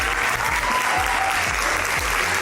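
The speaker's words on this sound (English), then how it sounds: "a huge round of applause for Nicholas Hoult" A dense, loud round of applause from an audience greeting the actor Nicholas Hoult, continuous clapping without a break from start to finish.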